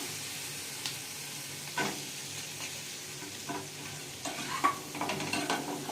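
Potatoes sautéed with spice paste in a pan for an egg kosha with peas, giving a soft steady sizzle with scattered stirring scrapes and clinks that grow busier toward the end.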